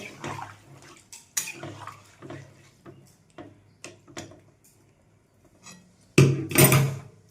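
Water poured into a pot of vegetables for Bengali shukto with potato, eggplant and bitter gourd, heard as scattered splashes and clatters that end in a louder rushing pour near the close.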